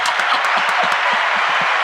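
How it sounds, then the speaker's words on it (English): Applause for Craig Hines during a sports talk show taping: steady, dense clapping from a small group fills the moment, with faint low voices murmuring underneath. "That's a big applause."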